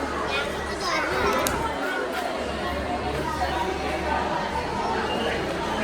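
Dense crowd chatter fills a busy railway station in the Matheran hill station, many voices overlapping in a steady, close murmur with occasional children's voices and faint clip-clop-like knocks.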